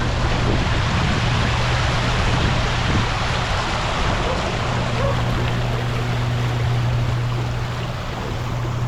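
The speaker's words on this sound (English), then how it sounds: "they got a waterfall on this pyramid stainless steel sculpture right here" Water pours steadily down a stainless steel pyramid sculpture in an outdoor plaza, a continuous broad rushing wash heard close up with a faint low hum underneath.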